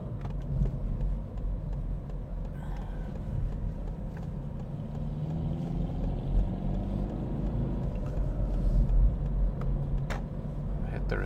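A car pulling away from a stop under adaptive cruise control on the road: a low engine and tyre rumble that swells gradually as it gets moving, with no voices over it.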